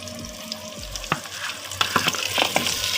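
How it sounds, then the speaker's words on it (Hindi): Boiled beef for matar gosht goes into a hot cooking pot, setting off a sudden close sizzle with scraping, stirring clatters over a few seconds. "अब हम इसमें डालेंगे जो हमने गोश्त बॉयल करके रखा हुआ था।"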